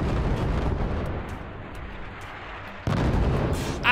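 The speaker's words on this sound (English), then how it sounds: "Just getting those cannons over here." Cannon fire booms in the Forts strategy game as a dense, roaring barrage of blasts, easing briefly before a loud burst of renewed firing near the end.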